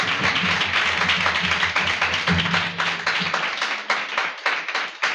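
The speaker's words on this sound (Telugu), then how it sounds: "బా చప్పట్లు కొట్టు గట్టిగా" A congregation claps loudly during a live Sunday church service, a dense, energetic wash of many hands with voices and singing mixed underneath, thinning into more distinct individual claps toward the end.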